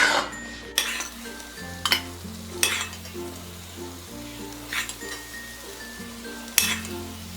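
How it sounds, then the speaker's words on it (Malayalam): Carrot halwa being scraped from a pan into a serving bowl, with a handful of sharp metallic clinks and taps of a spoon against cookware over a quiet sizzle and hum. "ഇനി നമുക്കിതൊരു സെർവിങ് ബൗളിലേക്ക് മാറ്റാം"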